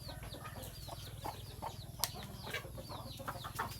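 Young Thai fighting chickens, three to four months old, cluck and chirp repeatedly in quick, scattered calls on a farm, close and fairly loud over a steady low background hum.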